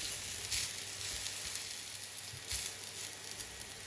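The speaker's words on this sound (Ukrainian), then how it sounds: "Перевертаємо на другу сторону, також обсмажуємо до золотистого кольору." Eggplant pieces frying to golden in a pan, a steady close hiss of oil with soft crackles and light spatter throughout, no voices.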